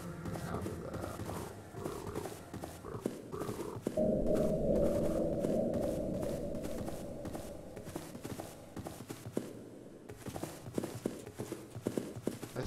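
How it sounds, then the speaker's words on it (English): Footsteps in a horror video game tap in a rapid, repeated clatter, close and fairly loud, with a steady drone under part of the run and a brief pause near the end. "I spam the shift key, it just spams the footsteps down repeatedly."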